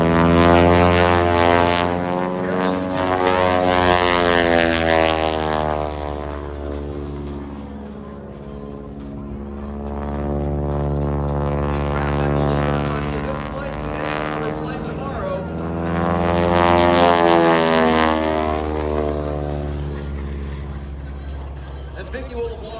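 450HP Boeing Stearman biplane flying aerobatic loops at an air show, its loud radial engine droning and swelling as it passes the grandstand twice, the pitch dropping away between passes.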